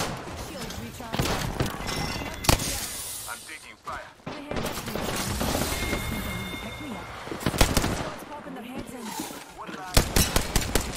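Bursts of rapid automatic fire and single shots crack repeatedly in a frantic Apex Legends ranked firefight, loud and dense with brief lulls, while a player talks over the shooting.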